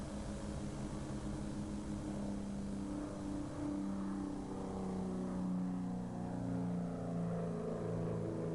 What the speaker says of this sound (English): Sounded like a truck trying to downshift.